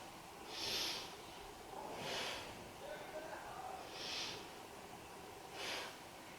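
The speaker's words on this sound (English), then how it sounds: "Let's take 3 breaths into the belly." Slow, deep belly breaths during a beginner yoga session, four airy inhale-exhale swells spaced evenly about every one and a half seconds, soft and close with faint background hiss.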